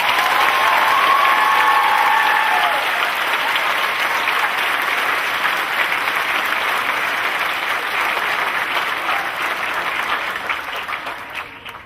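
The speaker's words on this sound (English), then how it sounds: "Please join the class of 2011 in a well-deserved round of applause for these educators." Sustained, loud audience applause at a 2011 high school graduation ceremony, a dense hiss of many hands clapping that holds steady and fades slightly toward the end.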